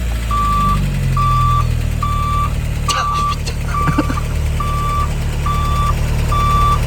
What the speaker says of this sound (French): Ça fait quoi de mettre un bip de camion sur sa voiture?